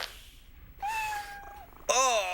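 A cat lets out two nearby meows, a long drawn-out one followed by a sharper, rising cry, against quiet room background.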